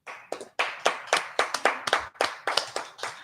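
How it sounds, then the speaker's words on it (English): Three people clapping in a radio studio, a sparse, uneven patter of separate hand claps, close and clear, each burst distinct rather than a blended roar, with no talking over it. "There's three of us clapping."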